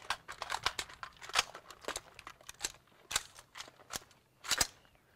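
A magazine being loaded into a carbine and the gun made ready during a shooting class warm-up drill: a series of sharp metallic clicks and clacks, irregular and close, with a few louder snaps toward the end.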